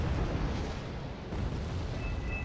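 Big explosion from a B5 bomber's bombing run in the strategy game Wargame: Red Dragon, a dense, loud rumbling roar that holds steady throughout without any talk.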